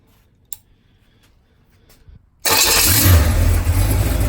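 After a few faint clicks, the rebuilt 327 V8 in a 1968 Camaro cranks and fires, bursting into a loud, rumbling idle that stays strong and close to the end.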